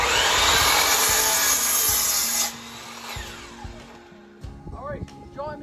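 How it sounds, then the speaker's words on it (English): A power saw cuts wood for an outdoor kitchen frame, with a loud whining buzz that cuts off midway, followed by quieter clunks of handling and brief talking near the end. "I'm going to do a little bit of sawing here now,"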